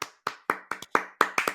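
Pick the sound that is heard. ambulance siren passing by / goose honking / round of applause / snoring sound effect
round of applause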